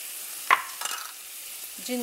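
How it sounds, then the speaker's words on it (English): Ginger, garlic and onion sautéed together in a pan, with a brief stirring scrape, a soft sizzle and a few light clinks over about two seconds, fairly quiet and with no talking. "Saute it all together, stir it."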